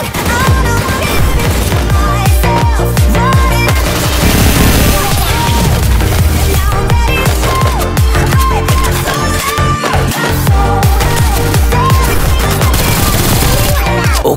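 Rapid bursts of automatic gunfire from an MP40 submachine gun in a video game, loud and nearly continuous, with booms and clatter mixed in.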